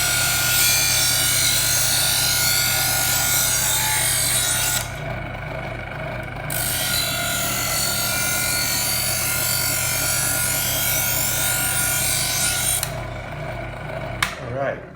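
Kitchen knife drawn through the polishing slot of a sharpener, giving a steady scraping rasp that cuts out briefly twice, close and continuous over a constant background hum.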